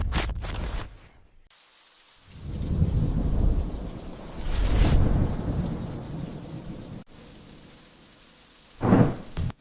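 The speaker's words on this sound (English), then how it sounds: "The rain is the heavy, curtain kind, dense enough to make the road vanish a few meters ahead." Heavy, curtain-like rain pours down at night on a forest road while thunder cracks and rumbles in loud swells, with a sharp near clap toward the end.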